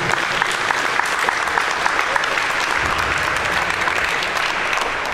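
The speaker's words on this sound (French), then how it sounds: "On peut l'applaudir." Steady applause from a crowd, dense clapping sustained evenly throughout, loud and close with a faint murmur of voices mixed in.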